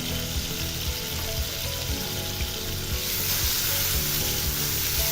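Cumin and garlic paste fries in a pan with a steady, close sizzle that runs without a break. Occasional soft scrapes of stirring sit under the hiss, and the frying gets a little brighter toward the end. No one speaks.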